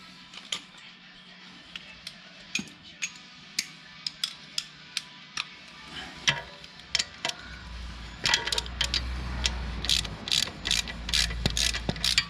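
A ratchet wrench loosens the bolt holding a gearbox manifold, giving a run of sharp, close metallic clicks in irregular bursts, joined later by a low rumbling background.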